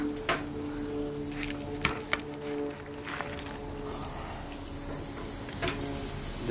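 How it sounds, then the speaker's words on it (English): T-bone steaks sizzling on a hot grill, a steady crackling hiss with occasional sharp pops and ticks, close and continuous with no talking. "Ooh, that sizzle."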